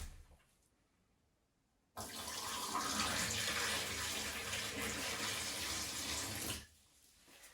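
Water gushes into a newly installed shower tray in a narrow niche during a leak test, a loud steady rush lasting several seconds that starts and stops abruptly, with no voices.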